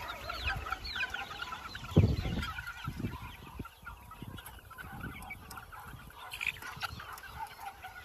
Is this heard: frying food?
no